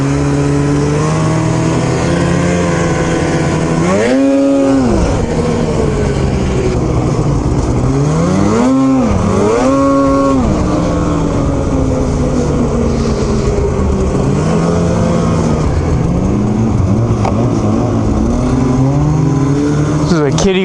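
An Arctic Cat snowmobile with a nitro motor and aftermarket exhaust revs loudly and repeatedly on Tug Hill, its high engine note dropping and surging again in several sharp bursts, with people talking over it throughout.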